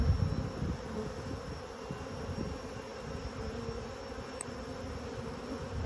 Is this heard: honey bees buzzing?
yes